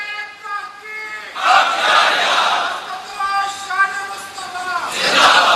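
A crowd at a religious gathering about the Battle of Badr shouts a slogan in unison, loud swelling roars answering a lone voice that speaks between them.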